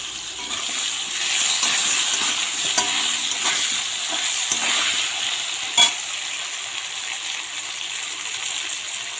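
Potatoes fry with turmeric and salt in a pan for a Bengali katla fish curry: a steady hissing sizzle runs throughout, broken by occasional stirring scrapes and one sharper clink, with no voices.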